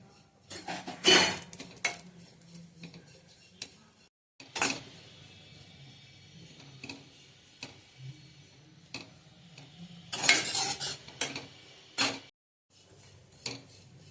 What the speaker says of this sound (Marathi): स्लो गॅसवरतीच भाजायचं आहे. खोबरं जास्त करपून द्यायचं नाही